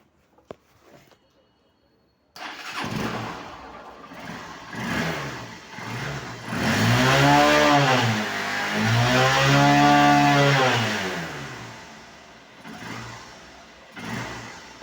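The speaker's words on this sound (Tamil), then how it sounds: "இப்போ வண்டி ஸ்டார்ட் பண்ண போகிறோம்." A vehicle engine started after a carburettor was fitted: it catches after a quiet start, then revs up and down in several loud, close swells before settling.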